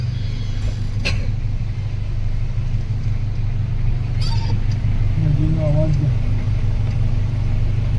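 A vehicle drives in the dark from Pahalgam toward Chandanwari on the Amarnath Yatra route, with a steady low engine rumble and road noise throughout and a few faint clicks and tones over it.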